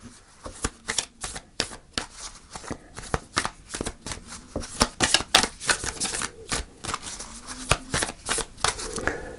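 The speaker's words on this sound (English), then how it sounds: "let's get straight into your reading and pull your first oracle card" Oracle cards being shuffled by hand for a Pisces spirit reading, a steady run of quick papery riffles and flicks that comes close and clear with no talking.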